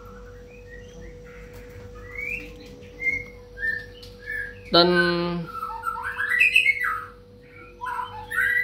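A white-rumped shama chirps and whistles in short, clear phrases close by, with one sharp harsh squawk midway, over a low steady hum, while someone talks intermittently.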